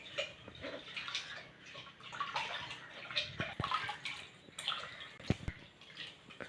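Soaked tamarind is squeezed and dissolved by hand in water for kollu rasam, giving close, intermittent squelching, sloshing and dripping in irregular bursts.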